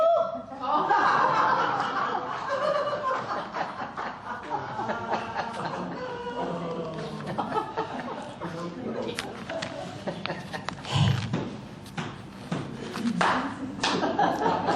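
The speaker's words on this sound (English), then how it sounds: "Oh no, I'm getting the slow clap." A church congregation gives a slow clap during a sermon, with separate claps ringing out across the room. Chuckles, laughter and some murmured talk mix in around the clapping.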